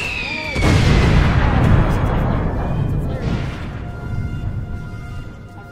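A heavy blast booms from the Piggy Branched Realities video game, sudden and loud, then trails into a long rumbling roar that slowly fades, with a voice speaking over it.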